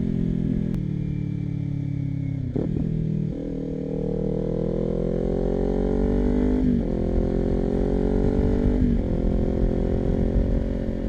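A Kawasaki Ninja 400 motorcycle fitted with a cheap aftermarket exhaust runs steadily, with a loud, continuous gurgling drone and several rising and falling revs as gears change.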